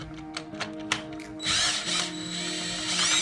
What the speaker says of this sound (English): I'm just shooting these out with a drill